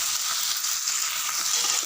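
Eggplant frying in a pan for vangyachi bhaji gives a dense, even hiss and sizzle, close and unbroken throughout with no talking.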